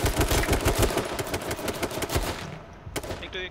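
Automatic gunfire in the H1Z1 battle royale game, a loud, fast burst of close shots rattling for about two and a half seconds before a short gap and a few final sharp reports.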